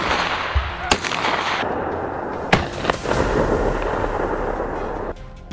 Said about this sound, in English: Bang! The bullet tore through the air with deadly precision